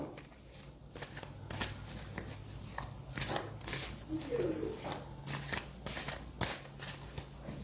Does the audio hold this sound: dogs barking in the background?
no